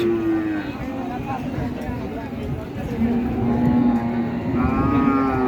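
Cattle low and moo at a busy village cattle market in Keraniganj, with a long drawn-out bellow standing out over a murmur of crowd voices and people talking nearby.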